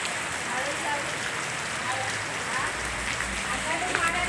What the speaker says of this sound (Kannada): ನೀರು ಯಾವ ರೀತಿ ನೀರೆಲ್ಲ ಹರಿತಾ ಇದೆ ಮಳೆ ಗುಂಡ್ಲುಪೇಟೆಯಲ್ಲಿ